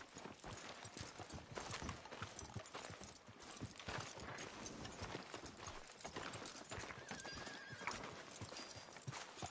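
In the Red Dead Redemption 2 video game, steady clip-clopping horse hooves mix with a dense, continuous wash of noise, with a whinny faintly in the mix and everything kept at low volume.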